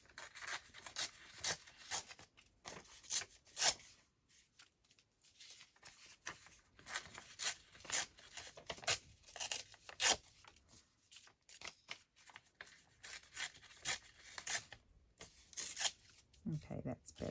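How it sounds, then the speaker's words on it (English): A decorated journal page being torn, a quiet series of short papery rips and rustles in irregular bursts, close and soft. "Okay, so we'll tear down this one."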